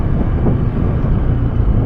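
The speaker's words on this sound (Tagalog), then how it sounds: "lakas ng hangin" Steady low rumbling buffet of strong wind hitting a microphone outdoors at a government housing site in Naic, Cavite, continuous and loud throughout with no voices.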